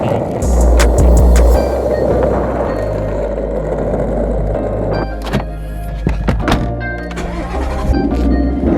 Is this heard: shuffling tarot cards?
no